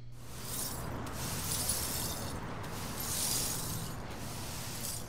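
Glass shattering and tinkling in bursts, bright crashing fragments recurring over a steady low background rumble, heard at moderate distance without talk.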